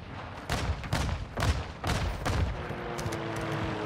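Video game gunfire rattles out in several rapid bursts, loud and close, with a brief pause between volleys before a quieter trailing tail.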